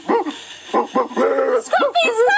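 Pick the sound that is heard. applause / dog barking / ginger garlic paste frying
dog barking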